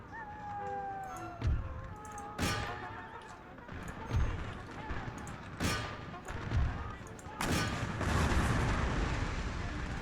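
Cannon blasts of 12-pounder canister shot in an Empire: Total War battle, several loud booming reports spaced a second or two apart, with horses neighing and battlefield din beneath.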